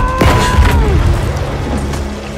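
A Lunge Mine explosion in the Battlefield V video game lands as one deep boom with a short burst of debris. A dense low rumble and scattered crackles then fill the remainder.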